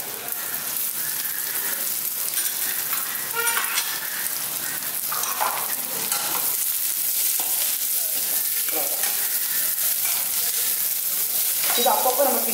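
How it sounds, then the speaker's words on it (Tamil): Garlic and onion sauté slowly in a pan for a Tamil garlic kuzhambu, giving a continuous close crackling sizzle with occasional stirring scrapes and no talk. "அது இந்த பூண்டும் வெங்காயமும் வதங்கிட்டே இருக்கு."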